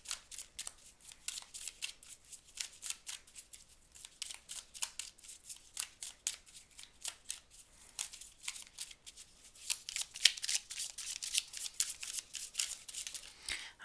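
Tarot cards are shuffled by hand for a reading, giving a quiet, continuous run of soft riffling and flicking with no talk.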